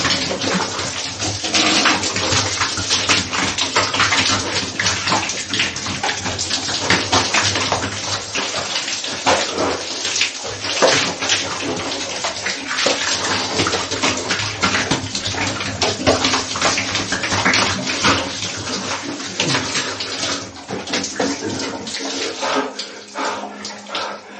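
Shower water pours steadily and loudly for the whole stretch, a dense continuous hiss and splatter with no break.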